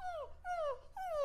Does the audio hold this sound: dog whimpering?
yes